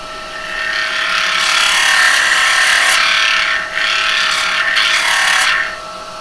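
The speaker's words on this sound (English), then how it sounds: "Always denib with some of the shavings" Zebrano wood spinning on a lathe is denibbed by pressing a handful of its own shavings against it, producing a loud, steady rasping rub that stops briefly once before finishing, close with no talk.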